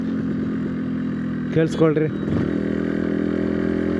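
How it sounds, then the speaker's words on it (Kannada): A Yamaha RX motorcycle on a scenic ride gives a steady low engine drone throughout, and someone speaks briefly over it partway through. "ನೆಕ್ಸ್ಟ್ ಇಂಜಿನ್ ನಾಯ್ಸ್ ಕ್ಯಾಪ್ಚರ್ ಮಾಡ್ತೀನಿ. Actually engine noise beautiful."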